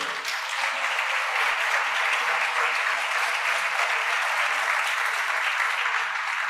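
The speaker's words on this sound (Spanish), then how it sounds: "¿Le da un fuerte aplauso a Jesús por eso?" A church congregation gives a long, loud round of applause, dense and steady throughout with no pauses.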